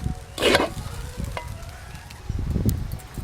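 Fried rice stirred in a pan with ghee, heard as two short bursts of scraping and sizzling close by, separated by a quieter, softly crackling pause, with no talk.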